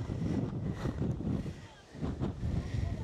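Strong gusting wind buffets the microphone on a mountain summit on Jeju Island, a continuous loud low roar that swells and dips, with a brief lull near the middle.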